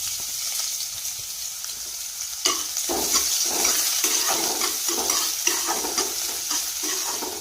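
Chopped onion hits hot oil and ghee with cumin in a pan for dal tadka, setting off a steady loud sizzle with repeated stirring scrapes in a regular rhythm; a quieter hiss runs before the onion goes in.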